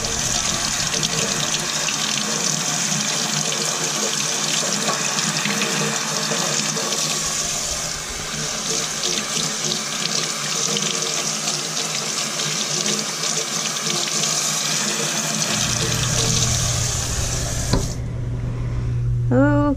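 Steady running tap water pours close and continuous while a guinea pig is rinsed in a bath, the flow shifting in tone near the end as the stream changes.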